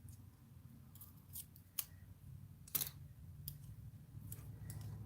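Small scissors snip through planner stickers, giving a few faint, sharp cuts spaced irregularly over a quiet indoor background.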